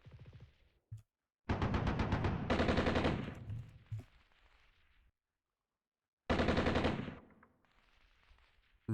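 Machine-gun fire on an old ATGM unit in the video game Armored Brigade 2, set in Cold War Finland, with loud sustained bursts separated by pauses and a fading low rumble between volleys.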